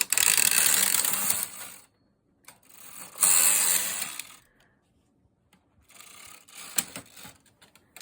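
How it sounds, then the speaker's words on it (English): Brother 881 standard-gauge knitting machine working lace from punchcards, close loud carriage sweeps with ratcheting, clacking mechanical rattles in bursts separated by quiet pauses while stitches are transferred. "I'm knitting on a brother 881, and you'll see the stitches are coming out, and I'm transferring."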